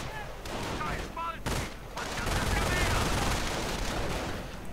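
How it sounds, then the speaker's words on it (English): Grenade blasts and rapid gunfire rage through a 1v1 war video game battle around an American assault, dense overlapping bursts and explosions at steady loudness, with a commentator's voice running over the chaos. "Grenades going off everywhere."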